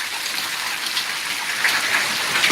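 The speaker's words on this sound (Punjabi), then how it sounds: "ਬਹੁਤ ਜ਼ਿਆਦਾ ਗੜੇ ਪੈ ਰਹੇ ਨੇ ਬਾਈ" Heavy hail and rain strike nearby in the village of Rajia, producing a steady, loud, hissing barrage dotted with sharp impacts that intensifies slightly toward the end. No speech.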